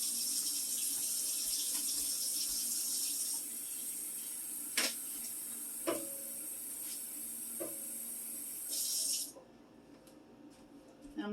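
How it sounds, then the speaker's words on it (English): Tap water runs steadily into a pot in a home kitchen sink, a constant hiss with a few clinks of the pot, before the flow shuts off near the end. "I'm going to fill the water to about 3/4 of the way full."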